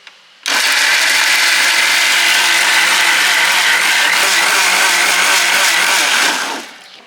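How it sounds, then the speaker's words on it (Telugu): Mixer grinder blending masala for biryani gravy with red chilli powder, salt and a little water: a loud, steady motor whine that starts abruptly, holds for about six seconds, then spins down, with no talking. "సో మిక్సీ వేసేద్దాం."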